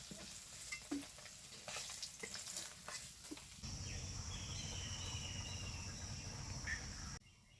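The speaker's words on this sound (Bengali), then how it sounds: "মাছ ভাজা হয়ে গেছে," Pabda fish frying in oil in a village-style Bengali kitchen, opening with soft scraping and stirring clatter, then a loud continuous sizzle that carries until it cuts off near the end.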